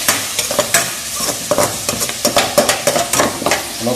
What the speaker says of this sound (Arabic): نفضل نقلب كده لحد ما الدجاج يستوي معايا،